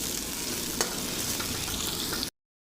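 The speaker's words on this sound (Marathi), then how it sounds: "या कांद्यासोबत त्याला मी मस्त असं फ्राय करून घेणार आहे" Chopped capsicum and onion fry in a pan for a Maharashtrian bhaji, giving a steady close sizzle with a single brief stirring tap before the sound cuts off.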